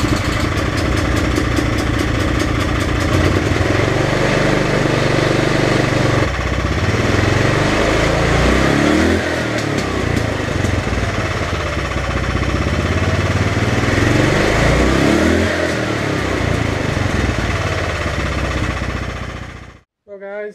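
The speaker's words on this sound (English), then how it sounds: "So let's start her up and see how it goes." A small engine fitted with an upgraded torque converter, likely a go-kart or minibike, runs loud and close, its rough mid-pitched drone rising and falling through repeated revs before cutting off at the end.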